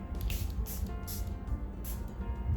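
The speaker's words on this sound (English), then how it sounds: "I'm using the Charlotte Tilbury Airbrush Flawless Setting Spray." Charlotte Tilbury Airbrush Flawless Setting Spray mists out in three quick, hissing bursts close to the microphone, spaced roughly evenly apart, with no talking.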